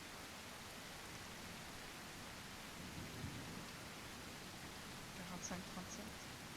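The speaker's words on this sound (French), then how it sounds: "Et ça tombe bien, sur ce serveur, il pleut beaucoup." Steady rainfall in the survival game The Isle Evrima on a server where it rains often, a constant soft hiss of rain with faint thunder-like rumbles, played quietly and alone.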